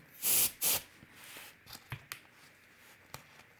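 Two short, sharp aerosol bursts hiss close to the mic onto alcohol ink on a tile, followed by quiet clicks and faint rustling.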